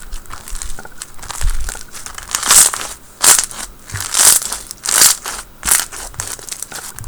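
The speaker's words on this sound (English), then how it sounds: "Oh my god, that's so crunchy." Crunchy white glue slushie slime is squished by hand, giving a steady series of loud, close crackling and crunching squeezes roughly every second, with no talk.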